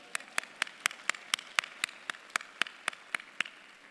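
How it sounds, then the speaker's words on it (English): A single pair of hands clapping at an honors convocation, about fourteen evenly spaced sharp claps, close and clear over a quiet hall. "You can go ahead and clap."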